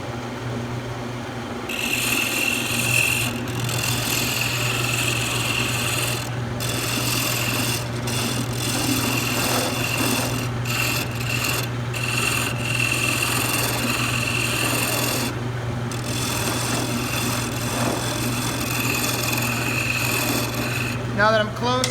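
Small gouge cutting a wooden knob spinning on a lathe, a rasping scraping hiss in repeated passes broken by short pauses, over the steady low hum of the lathe motor.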